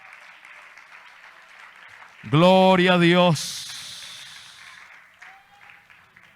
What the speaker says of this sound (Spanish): Dele palmas de alabanza